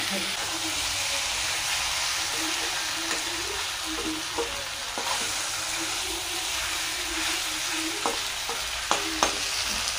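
Chicken frying in masala gives a steady close sizzle and hiss, with occasional stirring clinks and scrapes; there is no talking.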